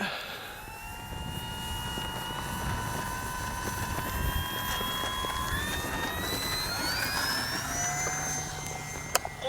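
An FMS PC-21 Pilatus RC model plane taking off, its engine whine rising steadily in pitch as it powers up and climbs, loud and continuous, with faint outdoor noise beneath.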